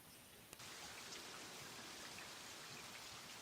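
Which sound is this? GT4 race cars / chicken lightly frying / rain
rain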